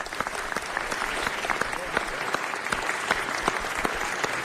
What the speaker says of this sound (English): So if we can give a round of applause to our commissioners for the volunteer time that they do.